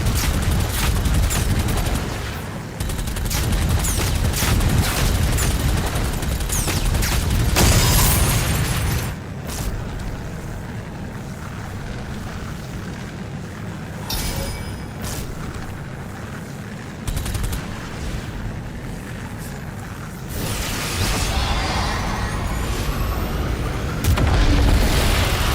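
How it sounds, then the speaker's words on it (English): An auto cannon fires in DOOM: The Dark Ages, with dense bursts of rapid heavy shots and booming impacts that come in loud waves broken by quieter stretches of battle rumble, and no talk. "Using auto cannon whilst boosting will increase fire rate."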